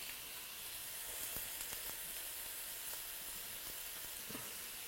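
Garlic and hot pepper frying in a pan give off a steady, even sizzle, a soft continuous hiss with occasional small pops and crackles, no voices over it.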